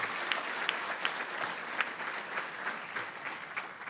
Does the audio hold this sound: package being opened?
no